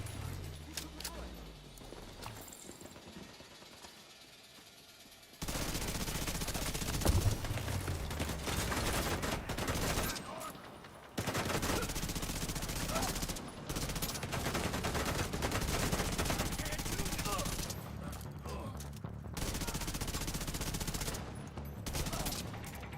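Bursts of automatic gunfire from hostile enemies in The Division 2, loud sustained volleys with short gaps, following a quieter opening stretch.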